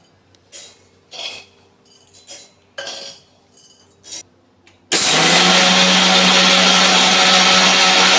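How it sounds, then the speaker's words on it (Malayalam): A few dry clinks and rattles, then a mixer grinder starts up and whirs loudly and steadily until the end, grinding roasted rice to powder. "ഇനി നമുക്കിത് പൊടിക്കാം ജാറിലേക്ക് ഇടാം"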